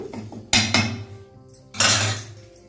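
Jaggery, oil and sesame powder mixed in a bowl for black sesame laddu, heard as a few loud clanking strikes of a spoon against the bowl with quieter scraping between.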